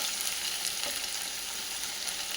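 Cabbage, onions and carrot stir-frying over a full flame, a loud, dense, unbroken sizzle throughout with no talking.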